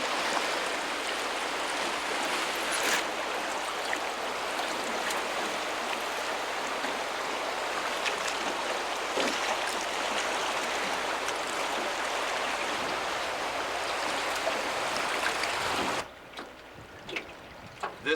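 Whitewater of Neils Rapids on the McKenzie River rushes in a continuous broadband roar beside an alder-shaded camp spot, steady for most of the stretch before dropping sharply quieter near the end.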